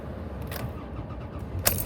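A car ignition key turns with a couple of sharp clicks and a jangle over a low, steady engine rumble, close and fairly loud, with no voices.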